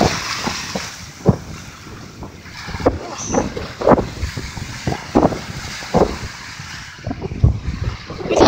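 Strong wind blows across a beach, a loud, continuous gusting rumble buffeting the microphone, with surf washing faintly beneath it.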